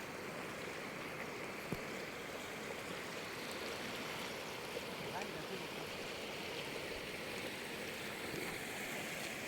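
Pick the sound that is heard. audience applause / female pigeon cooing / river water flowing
river water flowing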